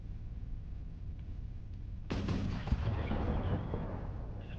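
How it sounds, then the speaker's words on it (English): Big ship turrets firing in the video game Pirate Patrol: a low ambient hum, then a sudden booming blast that rolls on into a sustained, rumbling volley. "let's bring a couple turrets online, and we're gonna fire on that"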